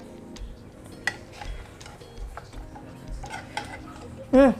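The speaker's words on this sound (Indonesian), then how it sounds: "Ini saya akan aduk saja." Fermented liquid organic leaf fertilizer being stirred in a container: soft, irregular sloshing and scraping strokes with occasional clinks, then a brief louder rattle near the end.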